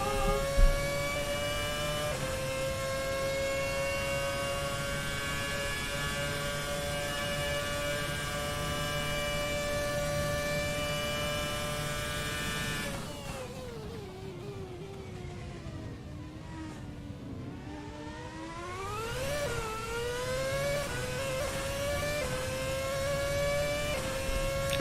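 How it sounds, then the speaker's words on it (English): Formula 1 race car engine at Monza in a racing game, a steady high-pitched whine that drops and then climbs again as it accelerates through the gears, loud and continuous with no talk. "That's a car accelerating"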